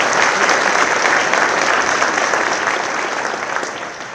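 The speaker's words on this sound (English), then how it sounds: "Yeah, let's cheer for that." A large audience applauds and cheers continuously at a university law school hooding ceremony, a loud, dense wash of clapping sustained throughout.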